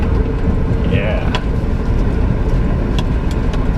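Land Rover Freelander driving on rough ground, a steady low engine and road rumble running throughout with a few faint knocks and rattles, and a voice speaking over it.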